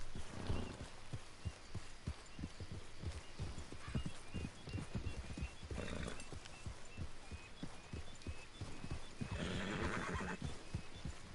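Horse hooves clip-clop steadily at a walking pace in the Red Dead Redemption 2 video game, close and clear, with a couple of whinnies breaking through, and no voices.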